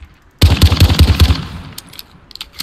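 A close, loud burst of about eight rapid gunshots from a shooter video game, fired in quick succession and then trailing off into faint scattered clicks and echoes.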